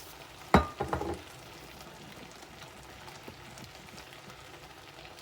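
Chicken teriyaki noodle stir fry sizzles softly in a pan, a faint steady crackle and bubbling following a brief clatter of utensils at the start.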